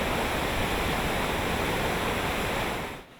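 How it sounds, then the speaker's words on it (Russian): Floodwater of the swollen Sunzha river roars through a breached dam, a dense, loud, steady rush that fills the clip and cuts off abruptly near the end. "Уровень реки Сунжа поднялся до критической отметки, в результате чего дамба не выдержала мощного напора."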